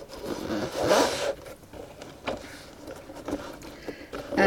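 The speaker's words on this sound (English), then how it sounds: "I zip them up" A pencil case zipped shut up close, a bright rasping zip sweep followed by softer scrapes and small handling sounds of the stuffed case.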